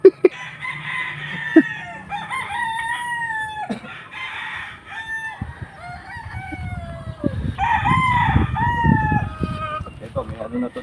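Gamefowl roosters at a game farm crow in repeated drawn-out calls with clucking between, close and loud, with some talk in the background.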